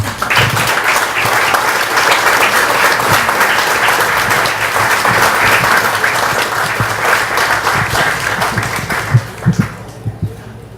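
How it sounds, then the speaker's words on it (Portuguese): Warm audience applause, a dense, steady wash of clapping that holds for about nine seconds before thinning out into a few scattered final claps. "Peço uma salva de palmas calorosa para esse cara"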